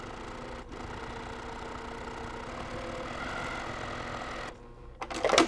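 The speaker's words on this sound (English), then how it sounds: "I'm just gonna stitch that down really nice." A sewing machine stitches a zipper onto a cross stitch pillow at a slow, steady pace, a close continuous mechanical whir with a brief pause near the start and a clattering stop and restart at the end.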